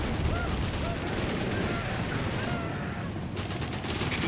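Dense, continuous automatic gunfire from a Company of Heroes 3 battle, a steady rattling barrage that fills the whole stretch at close range with no pauses.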